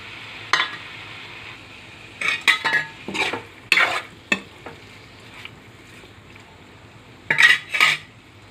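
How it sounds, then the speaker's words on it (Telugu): Tomatoes going into a frying pan and being stirred, with clattering strokes of a spoon against the pan in uneven bursts over a low, steady sizzle, close and moderately loud. "ఇప్పుడు టమాటా వేసుకుందామండి. టమాటా వేసుకుందాం."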